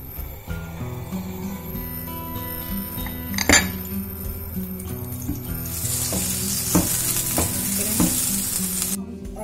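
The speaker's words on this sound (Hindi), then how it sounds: "बटर को हम मेल्ट कर रहे हैं, लो मीडियम फ्लेम पे।" Butter melts and sizzles in a pan over a low-medium flame for brownies, a steady close frying hiss broken by occasional clinks of a utensil against the pan.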